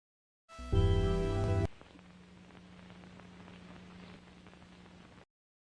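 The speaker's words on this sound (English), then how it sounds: "Why is the rain so loud?" Rain in the video game Fatum Betula, a steady soft hiss of falling drops with faint patters, preceded by a short loud tonal burst of game sound before the rain settles in.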